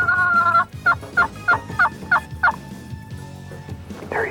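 A wild turkey gobbles repeatedly during a 1990s North American spring hunt, with a long loud gobble followed by a quick run of about six sharp, close gobbling bursts. No one speaks.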